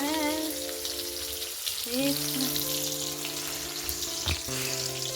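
Potol (pointed gourd) frying in oil in a pan gives a steady hiss, with a musical song playing over it and a brief stir or clatter near the end.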